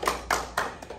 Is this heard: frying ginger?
no